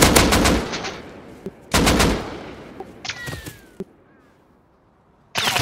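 Gunfire in the video game Rust, with rapid loud bursts of shots, a few isolated single cracks and short gaps of quiet between volleys, close and dominant with no talking.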